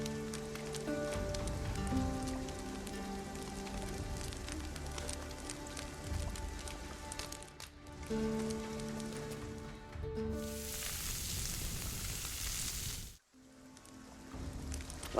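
Steady rain falls in the video game Dragon's Dogma 2, a continuous soft hiss under melodic music, with a louder, denser burst of downpour near the end.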